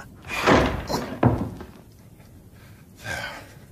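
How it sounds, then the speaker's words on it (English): A door is forced open with a jemmy in a radio drama: a few heavy wooden thumps and a sharp slam-like crack spaced over several seconds, close by, with a breathy gasp and no talking. "That won't be the last door we have to force tonight."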